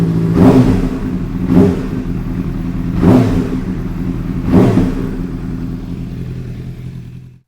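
A wrecked Honda CBR600RR sport bike being rebuilt runs close by with a steady mid-pitched idle, blipped up in four evenly spaced revs that rise and fall about every second and a half before cutting off.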